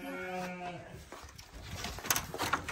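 Sheep and lambs bleating on a family farm: a drawn-out bleat opens, followed by rustling and shuffling, with other animal noises close by.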